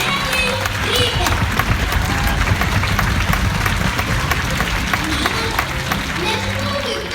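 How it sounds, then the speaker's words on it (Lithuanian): A theatre audience at a children's Christmas show, mothers clapping loudly and fathers stomping, a dense continuous rumble of claps and foot thuds with voices talking and singing over it. "Mamytės garsiai ploja. O tėveliai trypia."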